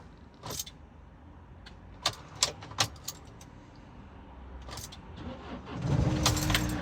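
A van's starter clicks in a few sharp, irregular taps while the key is turned, then the engine cranks and catches near the end, settling into a low rumbling idle.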